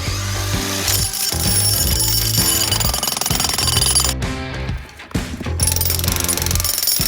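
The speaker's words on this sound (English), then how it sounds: "That jackhammer is not gonna jackhammer itself." A jackhammer breaking concrete pounds in loud, rapid bursts, stopping briefly about two-thirds through before hammering on again, close and harsh.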